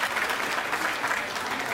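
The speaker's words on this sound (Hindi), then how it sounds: "एक बार पूरा सदन मुझे ताली बजा के आशीर्वाद दे।" Audience clapping in a hall at a comedy show, dense and steady applause at close range throughout, with no voices over it.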